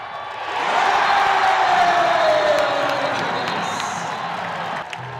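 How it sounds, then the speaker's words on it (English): A basketball arena crowd roars and cheers loudly and continuously as fans rise to their feet during a close game, a dense sustained wash of voices with scattered whoops. "Crowd rising to its feet, they feel it coming"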